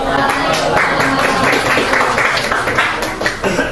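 A school class gives a burst of applause after a group presentation, with many hands clapping in a dense, fairly close patter that runs steadily for several seconds before thinning toward the end.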